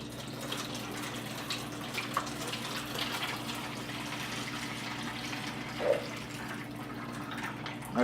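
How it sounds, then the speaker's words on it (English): Heated beef bouillon pours steadily into a roasting pan, a continuous close liquid stream with a faint splash, alone and without talk. "and then we'll just pour that"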